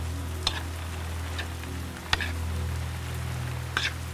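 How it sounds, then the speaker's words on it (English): Steady rain falling outdoors during a Thai sausage salad cooking session, a continuous soft hiss with a few sharper drops or taps now and then, close and moderately loud. "It's raining right now, so my cameraman is getting soaked."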